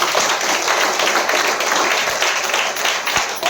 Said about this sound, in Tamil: கைத்தட்டல் இல்லையா அதுக்கு?